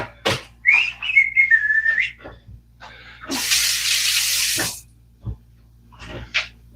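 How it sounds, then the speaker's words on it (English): A tap runs into an animal's water bowl in a burst of splashing water lasting about a second and a half, framed by whistling and short household noises, with no talk. "let me fill his water"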